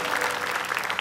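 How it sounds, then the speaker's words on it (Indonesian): Audience applause on an Indonesian TV talk show studio set, a dense steady clapping that fills the whole moment at even loudness with no talk over it. "Tepuk tangan dulu buat Dan."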